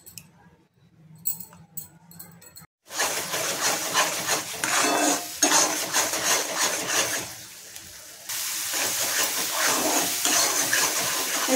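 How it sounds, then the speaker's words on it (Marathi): Ground masala paste tipped into well-heated oil in a kadhai for a Marathi jackfruit-seed bhaji. After a few quiet clinks, a sudden loud, steady, close sizzle fills the air, dipping briefly before flaring up again. "कढईमध्ये तेल टाकून घ्यायचे आपल्याला। तेल चांगला कडक असं गरम करून घ्यायचे। तर ह्याच्यामध्ये आपण जे तयार करून घेतलेले वाटण ते टाकून घ्यायचे।"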